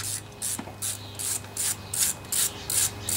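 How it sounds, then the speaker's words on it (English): A hand ratchet fitted with a 10 millimeter socket works on a Craftsman riding lawnmower. Eight or nine rapid clicking strokes come in an even rhythm, close and clear over a low hum, with no talk. "Looks like I need to get a 10 millimeter socket"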